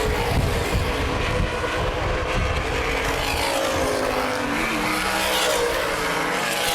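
Outlaw sprint cars race at Baer Field Speedway, a continuous loud engine roar from several cars at once, with pitch swells as they pass through the turns and no break in the noise.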